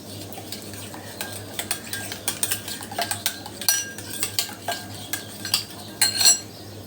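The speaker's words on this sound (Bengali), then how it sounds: "ডিমটা ভালোভাবে কেটে নিব।" An egg is beaten in a bowl for garlic cheese bread dough, a utensil tapping and clinking against the bowl in quick, uneven strokes that grow busier, close and clear with no talking.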